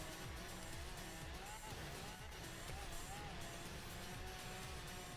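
Lamborghini driving on sand in Forza Horizon 3, its engine droning steadily with rising and falling revs and some tire noise, held at a constant level throughout.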